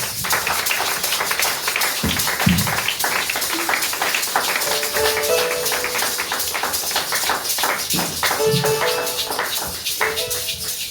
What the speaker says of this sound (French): Sous vos acclamations, j'appelle mon Père.